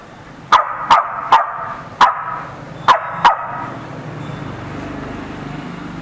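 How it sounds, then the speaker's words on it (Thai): Dogs barking in short sharp bursts, six barks spaced irregularly over the first few seconds, fairly near, followed by a low background hum that may be a car. "คราวนี้เราไม่ให้เขาเห่าเราก็ต้องให้เขาหยุดเห่าก่อนที่ได้กิน"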